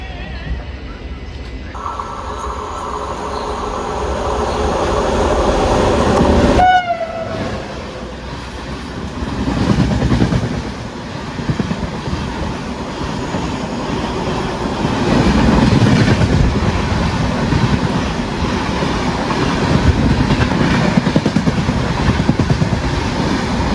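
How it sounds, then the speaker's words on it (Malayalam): A passenger express train bound for Chennai Egmore runs on the rails, its loud, continuous rumble and rattling wheels swelling and fading as the carriages sway through a curve. "ഇങ്ങനെ വളഞ്ഞിരിക്കുന്നുണ്ട് നമ്മുടെ ട്രെയിൻ"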